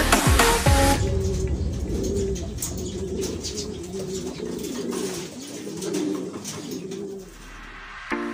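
Soft, repeated cooing from a racing pigeon in low rolling phrases, steady throughout, with faint background chirps and a brief louder rustle at the start.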